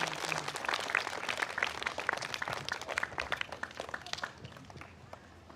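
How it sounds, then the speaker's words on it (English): A classroom of third graders and adults gives a round of applause for two students at a morning flag salute, dense clapping that swells at once and then tapers off over several seconds. "You can give them another round of applause."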